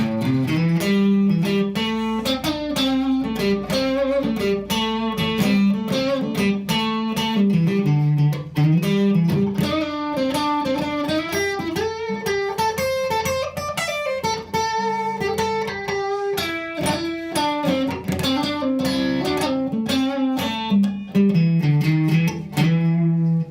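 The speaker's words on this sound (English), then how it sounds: "So the plain minor blues scale would sound like this." Electric guitar runs up and down a bluesy minor scale in a continuous flowing line of single notes with a slightly gritty tone.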